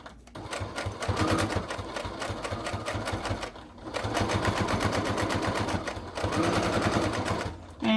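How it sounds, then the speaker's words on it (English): Sewing machine stitching and back-stitching fabric for an armchair sofa caddy, running in two long steady bursts of rapid even needle rhythm with a short pause between, close and loud. "sewing on top of my contrasting color there"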